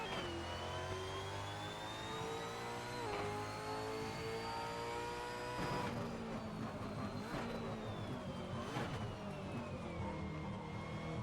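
A supercar engine revs and pulls through the gears in a racing video game played with a Fanatec Clubsport SQ shifter, a loud continuous rising and falling whine with several distinct shift breaks, heard alone without talk.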